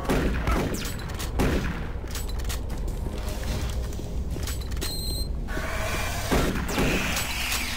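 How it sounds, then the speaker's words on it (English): Machine gun fire in the video game Doom 3 crackles in rapid bursts over a dense, loud mix of mechanical clanks, creaks and in-game effects, with a few sharp metallic hits near the end. "Oh! Machine guns?"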